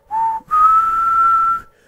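A person whistles two sustained low notes, a short one then a longer held tone, imitating the main theme music from the first game, clear and close with no speech.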